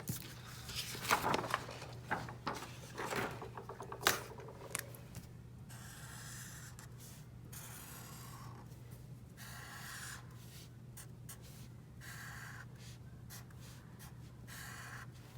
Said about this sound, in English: I went over my horizon line, so I'm going to erase